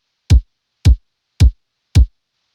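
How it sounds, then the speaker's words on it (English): Four evenly spaced, punchy layered synthwave kick drum hits: a deep low kick combined with a mid punch kick and a crisp hi-hat on top, each short and decaying quickly, alone in silence. "We have our low kick, our mid punch kick. And as for this top kick, although it's labeled top kick, it's really just a hi-hat hit."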